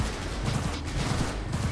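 Dense, continuous gunfire from the video game Cyberpunk 2077, with rapid overlapping shots forming a loud fusillade throughout the short burst with no talk.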